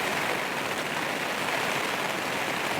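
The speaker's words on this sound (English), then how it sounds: "you can see rain is landing on the water bottle there at the entrance." Rain falls on a tarp shelter and a water bottle at a wild camp in the Lake District, a close, constant dense patter with no talking.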